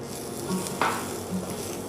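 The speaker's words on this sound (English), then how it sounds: "Give that a little bit of a stir." Green capsicum frying in a pan with chickpeas for chilli chana, a soft steady sizzle with a brief scrape of a spoon stirring it, close and quiet.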